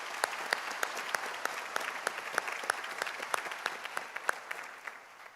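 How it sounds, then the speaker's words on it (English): Student forum audience applauds its sponsors, a steady spread of clapping at moderate distance with sharper individual claps popping out rhythmically before it tapers off. "That deserves a hand clap."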